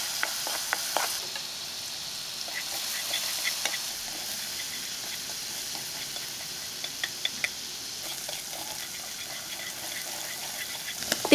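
Shallots and garlic fry in rendered pork fat in a pot, a steady soft sizzle running throughout with scattered small crackles and stirring taps, close and unaccompanied by voices.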